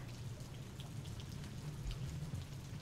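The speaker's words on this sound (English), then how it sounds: "I can feel the tremors of the rain." Rain in the video game Rain World: Gourmand, a soft, steady hiss of falling raindrops with a low rumbling undertone, faint and continuous.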